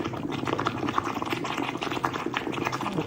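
Heated honey boils and foams over, giving a steady, close, bubbling hiss with soft popping throughout, and no voices.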